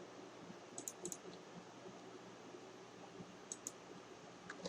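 Soft keyboard typing, a few short bursts of quick, faint clicks with quiet pauses between them, close by in a quiet room with no talk.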